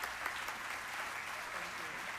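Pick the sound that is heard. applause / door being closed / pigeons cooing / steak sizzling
applause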